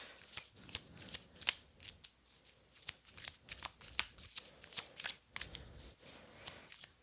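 Tarot cards being shuffled by hand, a quiet, close series of crisp riffling flicks and soft shuffles repeating irregularly throughout.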